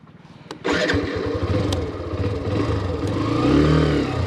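A Hero Xtreme 125R motorcycle engine, heard close up while riding off-road: a brief idle clatter jumps into a steady running drone that rises with throttle near the end, over knocks and rattles.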